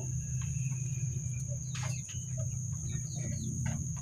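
A free-range village chicken with swollen, snotty eyes makes a few soft clucks over a steady low hum and a high insect-like whine, with faint scattered sounds around and no talk.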